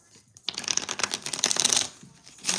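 Tarot cards being shuffled by hand, a dense run of riffling card flicks at close range that starts abruptly, swells, eases off, then briefly returns alone.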